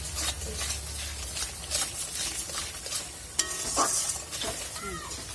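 Pointed gourd (potol) sautéed with salt and turmeric while being stirred in a pan, a steady close sizzle with scraping stir strokes throughout and a brief metallic clink near the end.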